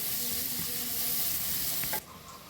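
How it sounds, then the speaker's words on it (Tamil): Small onions (shallots) sauté in a pan for spicy Pallipalayam chicken, a steady loud sizzle and crackle with faint stirring that runs for two seconds and then drops to a quieter simmer. "இப்போ சின்ன வெங்காயம் நல்லா வதக்கிக்குவோம்"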